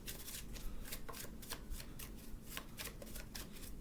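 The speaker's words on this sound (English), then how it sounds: "I'm going to pull a couple of cards from here just to see what your tribe wants you to know" Tarot cards shuffled and drawn from a deck, a steady run of soft papery riffles and slaps, close but quiet over a faint hiss.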